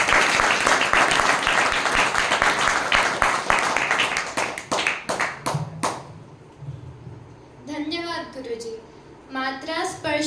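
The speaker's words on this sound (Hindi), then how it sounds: "इसके लिए और जोरदार ताली।" Audience at a Sanskrit recitation gathering breaking into loud, dense clapping that tapers off after about six seconds, followed by a single voice speaking near the mic.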